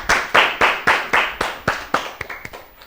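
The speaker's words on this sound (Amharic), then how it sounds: "አጨብጭቡለት እንጂ አጨብጭቡ" A small group of children claps in applause for a correct quiz answer, about ten sharp, close claps in quick succession, fading off toward the end.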